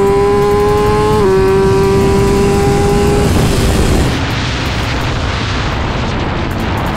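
A Kawasaki Z900 motorcycle accelerates hard on a track, its engine loud and close with a rising whine that steps at a gear change and then gives way to a roaring wind-blasted rush.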